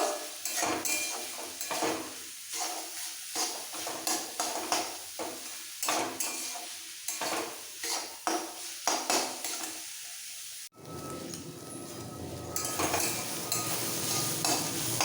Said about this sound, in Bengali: আর তিনটে চেরা কাঁচা লঙ্কা ভালো করে কষিয়ে নেবো একদম ঝরঝরে হওয়া পর্যন্ত